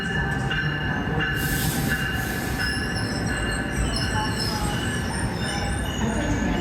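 Amtrak Northeast Regional train at a station, its wheels squealing loudly and steadily against the rails in a sustained metallic screech with rumbling undertone, continuous and close throughout.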